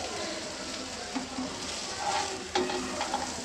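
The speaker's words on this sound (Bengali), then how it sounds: "ভেজে নেই কিন্তু এই ধনিয়াটা ভাজা।" Coriander frying in hot oil in a home kitchen, a soft continuous sizzle with occasional stirring clinks and scrapes, close by.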